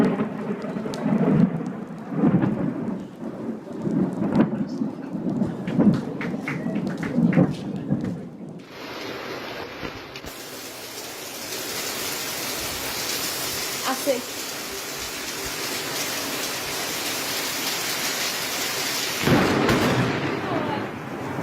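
A lightning strike near a tree at a ski resort in Poland brings a heavy crash of thunder followed by steady, loud rain; voices talk over the storm early on.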